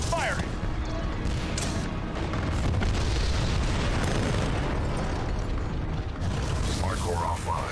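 Heavy weapon fire in the Titanfall 2 finale, a dense stretch of booming blasts and mechanical clatter that stays loud and continuous throughout, with a voice speaking over parts of it.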